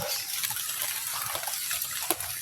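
Heavy rain at an outdoor campsite, a steady broadband downpour hiss with dense spatter and water noise, continuous and close throughout, with an occasional louder splash near the end.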